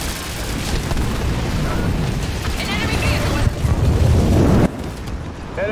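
Explosions from an enemy structure being destroyed in the Halo Wars 2 strategy game, a loud, continuous rumbling boom with crackling bursts that swells and then cuts off, mixed with game voice lines.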